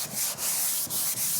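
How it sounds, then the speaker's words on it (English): Steady abrasive rubbing of a sanding block across a guide-coated body panel of a V6 Holden EH panel van, crosshatch strokes, close and continuous with brief pauses between strokes. "as I'm sanding, doing the crosshatch"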